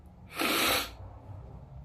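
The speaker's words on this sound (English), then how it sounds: "Sorry, I've been sniffling." A single short, breathy nasal sniff from someone with springtime allergies rises and fades within about half a second against a quiet indoor background.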